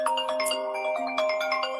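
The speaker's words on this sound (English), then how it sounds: "my phone is not going to stop ringing" A phone rings nonstop with steady electronic ringtone tones, a continuous chiming tone sequence lasting throughout at moderate, close level.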